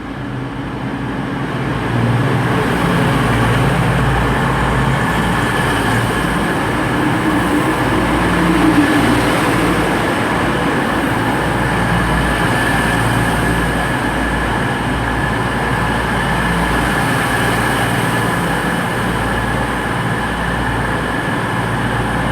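Unit 222-002, a diesel multiple-unit bound for London St Pancras, rumbles steadily at Leicester station, a loud sustained engine drone with a low throb that holds for the whole stretch with no voices.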